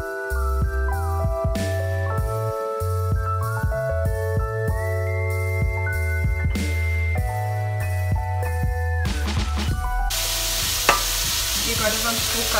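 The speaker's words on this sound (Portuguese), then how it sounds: "Vamos saltear aqui um bocadinho o bacon para ele libertar a gordura." Bacon sizzles and fries steadily in a hot pan as it is sautéed to render its fat, with some stirring and light metallic tinkles, loud and close, without talk.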